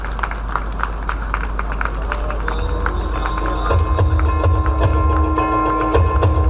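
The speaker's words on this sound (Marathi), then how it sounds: "टाळ्यांचा कडकडाट झाला पाहिजे सरांच्यासाठी" Applause from an audience at an award ceremony, a dense steady patter of clapping that grows fuller midway, with a low rumbling hum and a tonal background underneath.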